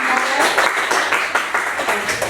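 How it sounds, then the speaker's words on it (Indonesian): Applause from a university classroom audience for a student group after their presentation, a steady dense wash of hand claps sustained throughout at moderate level. "Tepuk tangan untuk kelompoknya."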